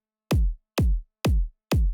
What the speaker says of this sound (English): now we can add a punchy kick with the 4 on the floor pattern